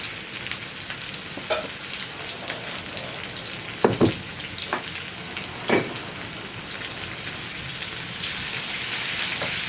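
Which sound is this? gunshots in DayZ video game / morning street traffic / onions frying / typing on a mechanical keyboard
onions frying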